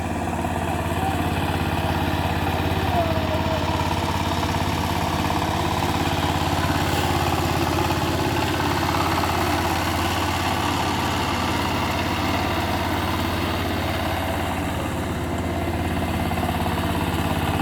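A 28-tine power tiller ploughing a field, its engine droning steadily and loudly for the whole stretch, close and unbroken, with no voices.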